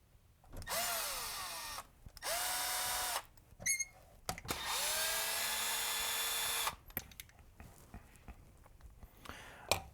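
A power drill or driver screws a Vibramate plate and Bigsby vibrato onto a Les Paul guitar, whirring in three close, steady bursts of rising then level pitch, separated by small clicks and handling taps.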